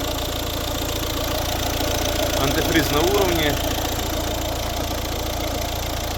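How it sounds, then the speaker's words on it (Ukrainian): A 2012 Volvo S60 with a 1.6 diesel engine idles with an even, continuous drone under the open hood, while someone speaks briefly over the steady engine sound. "Ось робота двигуна цієї красотки"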